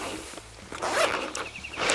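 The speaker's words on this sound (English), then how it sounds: "Undo your zips here" Zips being pulled open on a homemade first aid kit bag for 4WD camping, a couple of quick rasping zip runs, close and fairly loud, with no talk.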